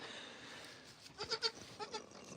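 A goat on a family farm gives a few short, faint bleats in quick succession, close by over quiet background noise.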